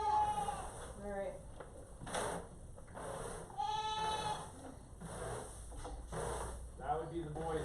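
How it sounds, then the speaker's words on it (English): Male goats bleating on a farm, several wavering calls rising over steady background noise at moderate distance, with no one speaking. "I want to feed the boy goats."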